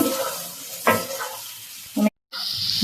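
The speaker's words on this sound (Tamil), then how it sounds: "உருளைக்கிழங்கு போட்டு நல்லா வதக்கி இருக்கு" Potatoes sautéing with tomato and ghee in a pan make a soft steady sizzle, with a couple of stirring scrapes and a brief dropout before the hiss returns brighter.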